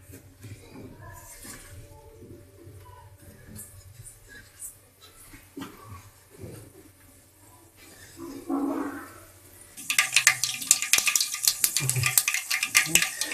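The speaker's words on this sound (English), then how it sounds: "I've got our mustard cracking up over here" Mustard seeds and onions crackle and sizzle in hot oil while fish cutlets are being prepared, a dense hissing spatter that surges loudly in the final seconds after quieter kitchen sounds and talk.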